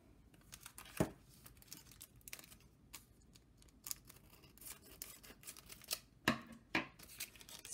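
A plastic package of scrapbook chipboard stickers being opened up close: soft, irregular crinkling, rustling and tearing with a few sharper crackles, faint and steady, with no talk.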